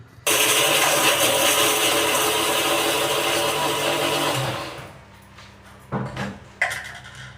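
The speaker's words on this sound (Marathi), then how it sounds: "त्यामुळं मी अगोदर सर्वात मी मसाला वाटून घेते" A kitchen mixer grinder grinds masala of coconut and spices, running loud and steady for about four seconds before cutting off, followed by a few clinks and knocks.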